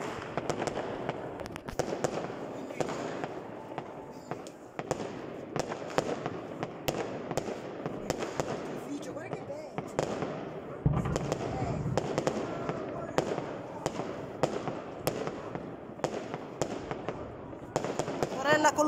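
New Year's fireworks and firecrackers go off in a rapid, irregular string of sharp bangs and pops lasting the whole stretch, some close and loud, others farther away.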